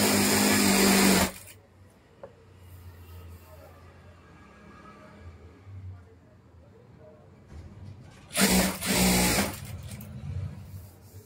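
A sewing machine stitches cotton saree blouse fabric in two short, loud whirring runs at the start and near the end, with quieter talking and rustling in between.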